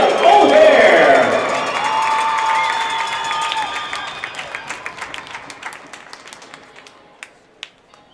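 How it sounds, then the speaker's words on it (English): Crowd at a minor-league hockey game between the Shreveport Mudbugs and Odessa Jackalopes cheering and applauding a forward's last lap, loud and roaring at first, then fading into scattered individual claps echoing in the arena. "please give a round of applause for our forward from Barcelona, Spain, Liam O'Hare"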